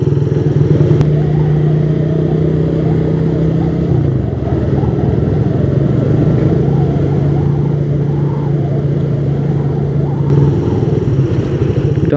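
A motorcycle rides through Batam city traffic in the late afternoon, its engine droning steadily up close with a shift in pitch partway through, other vehicles passing around it and no talk.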